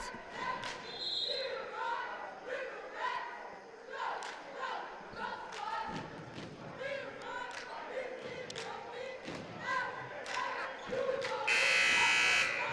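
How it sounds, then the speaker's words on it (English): A buzzer sounds during a boys' high school basketball game in a gym, a loud electronic blare near the end, following a stretch of crowd noise, sneaker squeaks and an announcer talking. "There's the second buzzer as we break the timeout."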